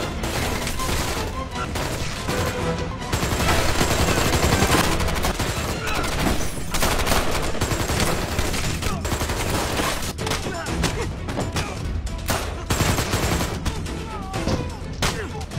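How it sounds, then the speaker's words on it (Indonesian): Sustained automatic rifle fire in an action film, a dense, loud and continuous barrage of rapid shots running throughout, with a faint voice underneath. "Dengan senapan otomatis Zihao mengamuk."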